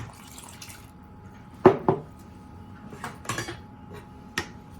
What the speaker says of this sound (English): Give your wine a stir.